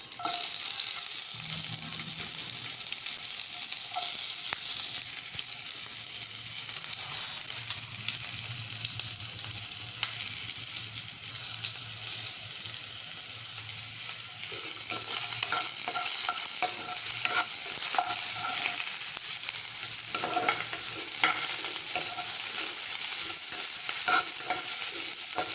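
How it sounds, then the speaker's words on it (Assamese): Onions fry in hot oil with two bay leaves and three chillies, a loud, continuous close sizzle and crackle that runs unbroken with occasional utensil clicks and stirring scrapes, no talking. "তেলটো গৰম হৈ গ'ল। ইয়াত আমি 2টা তেজপাত দিম, 3টা জলকীয়া দি দিছোঁ আৰু ইয়াত পিঁয়াজ দিম।"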